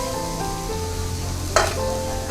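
Corn kernels tipped into hot oil with chillies and curry leaves crackle in a steady close sizzle, with a brief louder burst of spattering partway through as they hit the pan.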